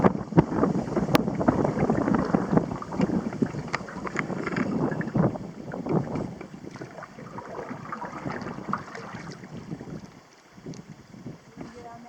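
Wind gusting across Clear Lake during a canoe paddle, a steady broadband rush with buffeting on the microphone that holds close and loud for most of the stretch before easing near the end, with water movement mixed in.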